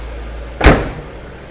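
The hood of a 2013 BMW X5 E70 xDrive swings shut with one solid, close thump that quickly fades, leaving a low steady hum in the background.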